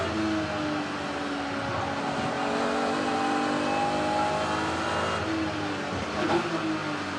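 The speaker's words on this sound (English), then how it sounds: "That was a messy gear change." A BMW race car in the Kumho BMW Championship at Snetterton hums steadily from inside the car, then its engine note wavers and briefly stumbles through a rough gear change near the end.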